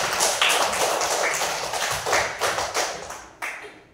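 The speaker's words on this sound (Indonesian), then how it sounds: "Iya, tepuk tangan." Classroom clapping from students, a few bursts of hand claps and taps that rise and fade unevenly, fairly close and loud, with no talking over them.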